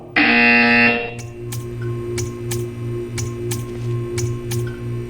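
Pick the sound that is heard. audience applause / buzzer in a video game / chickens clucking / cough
buzzer in a video game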